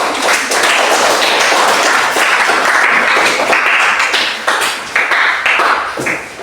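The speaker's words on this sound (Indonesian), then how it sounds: "Mari kita berikan aplaus." An audience of teachers at a classroom presentation claps steadily for several seconds, a dense, loud wash of clapping that thins out into scattered claps near the end.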